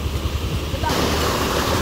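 A strong river rushes past near a dike, a loud, steady roar of water heard close by, with heavy wind buffeting the microphone and no voices.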